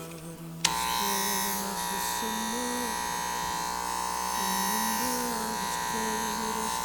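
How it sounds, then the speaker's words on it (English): Oster Fast Feed hair clippers switch on with a click and run with a steady close electric buzz, slightly loud because they need oil, as a voice talks faintly underneath. "Let me turn them on for you."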